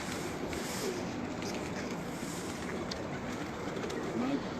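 Pigeons coo softly now and then on a rooftop at night in Faisalabad against a steady, noisy outdoor background hum, with a couple of low murmuring calls standing out.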